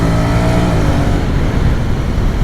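A custom-built X-ADV 750 scooter accelerates with a steady, loud engine drone and rising harmonic tones that hold for the full moment, with no talking over it.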